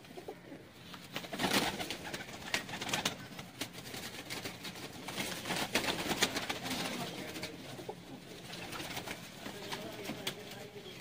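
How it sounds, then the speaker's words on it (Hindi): A golden pigeon coos repeatedly in low, throaty rolls among other birds, with a steady outdoor hum of wings and chatter beneath. "नसीम साहब के घर का गोल्डन कबूतर है।"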